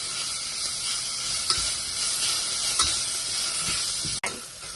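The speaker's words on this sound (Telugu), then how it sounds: "ఇప్పుడు పుదీనా, మనం ముందుగా కట్ చేసి పెట్టుకున్న పుదీనా, కొత్తిమీర ఒకసారి బాగా కలుపుకున్నాను." Chopped mint and coriander fry in a pan with a steady, hissing sizzle, punctuated by a few soft stirring scrapes and a brief dip near the end; nobody speaks.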